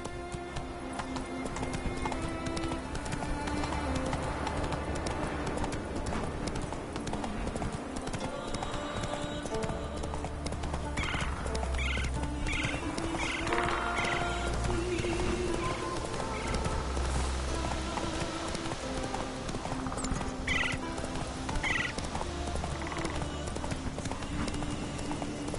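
Roach, a horse in the video game Witcher 3, gallops with a steady rhythmic clip-clop of hooves under game music, with a neigh or two along the way.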